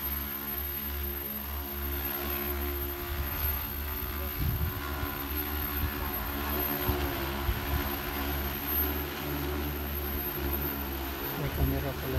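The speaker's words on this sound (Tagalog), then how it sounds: "Helicopter, helicopter." A helicopter flies overhead in South Korea, its steady droning engine and rotor hum holding at moderate distance throughout, with voices talking faintly in the background.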